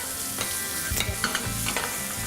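Garlic frying and sizzling in a pan in a cooking kitchen, a soft steady hiss with light stirring clicks and scrapes, fairly quiet and close, with no talking.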